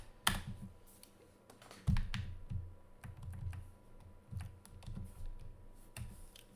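Soft, fairly close typing on a computer keyboard, irregular clusters of light key clicks with brief pauses, quiet and alone.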